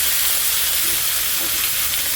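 Chicken breast sizzling in hot oil in a pan for a chicken mushroom stir-fry, a steady close bright hiss that runs unbroken and alone.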